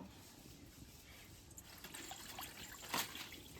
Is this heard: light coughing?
no